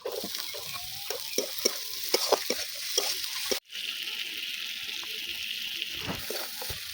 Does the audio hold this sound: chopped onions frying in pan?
yes